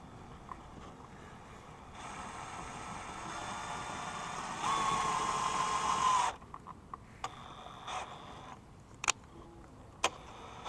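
A power tool drives screws beneath the lip of a Kia EV6, a whirring motor running for a few seconds with a rising whine, then stopping, followed by scattered clicks and taps, with no talking.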